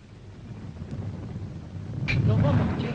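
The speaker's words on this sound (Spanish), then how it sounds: "Está lloviendo" Rain falls steadily with a low thunder rumble, a scene from a 1945 Spanish-language film; the noise is a constant hiss that swells into a louder, deeper roll after about two seconds.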